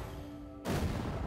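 Weapon fire in a space battle in the video game Spore, a single sudden blast that turns into a loud, sustained roar of fire after a quiet tonal hum.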